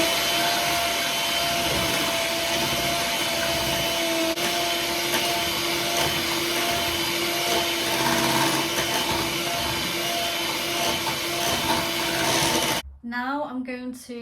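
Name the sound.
whisking eggs into brownie batter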